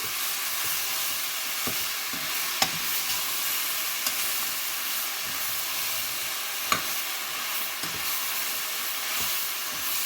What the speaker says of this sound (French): Et là, vous mélangez le tout.